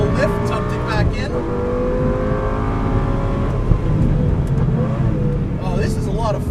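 A 2004 Lamborghini Gallardo's engine drones loudly on a racetrack, a sustained, close, high-revving roar that shifts pitch with throttle changes, while someone talks over it.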